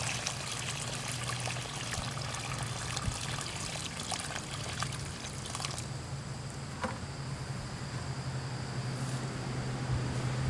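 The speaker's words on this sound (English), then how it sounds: "We're going to finish watering here." Water trickles and splashes steadily onto garden soil around a newly planted tree peony, a continuous close pouring hiss that runs for about ten seconds and eases slightly near the end.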